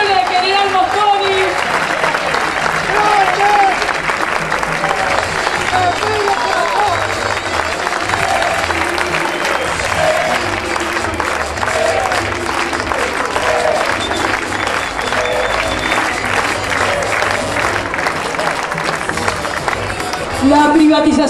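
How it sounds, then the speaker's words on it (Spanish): A large audience at a solidarity festival in General Mosconi, Salta, applauds continuously and loudly throughout, with crowd noise and scattered cheering blending into a sustained wash of clapping. "un fuerte aplauso para él, para la lucha del pueblo de General Mosconi"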